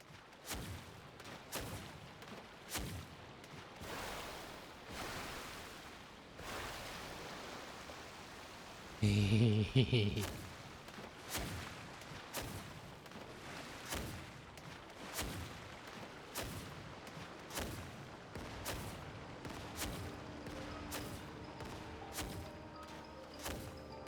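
Cannon blasts in the video game Genshin Impact, a heavy burst of booming shots near the middle of the clip set among repeated dull thuds and impacts, with faint game ambience throughout.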